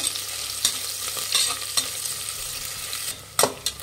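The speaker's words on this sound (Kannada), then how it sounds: "ಇದು ಅಷ್ಟೇ ಗೋಲ್ಡನ್ ಬ್ರೌನ್ ಬರೋವರೆಗೂ ಫ್ರೈ ಮಾಡಬೇಕು" Sliced onions frying to golden brown for methi chicken biryani, with a continuous close sizzle broken by scraping stirs and a couple of louder clatters of the spatula near the end.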